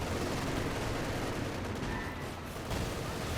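A dense, continuous rattle of MG42 machine gun fire and battle noise in Company of Heroes 2 roars steadily throughout, with no clear break between rounds.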